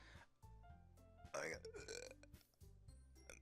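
A single loud, drawn-out human burp erupts mid-clip during Doki Doki Literature Club gameplay, with soft game music continuing underneath.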